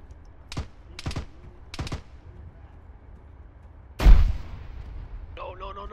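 Grenade blast in the ARMA 3 co-op shooter on a ridge by a riverbank, heard as one loud booming burst near the middle after a few distant gunshot cracks, with a short voice at the end.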